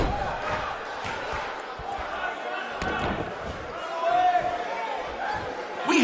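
Wrestling arena crowd in WWE 2K19, a broad roar with thuds and impacts under an announcer's voice talking over it, swelling louder near the end.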